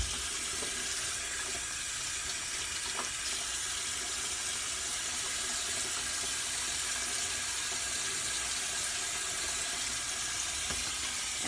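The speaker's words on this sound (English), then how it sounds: "I'm going to rinse off that pad from the other because that used up a lot of shampoo." Water runs from a sink tap in a steady, moderately quiet stream while a shampooed makeup brush pad is rinsed beneath it, with faint splashes now and then.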